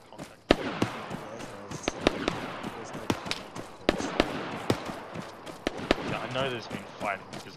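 Sharp gunshot cracks from Arma 3 go off in irregular bursts at mid-distance, with people talking over them.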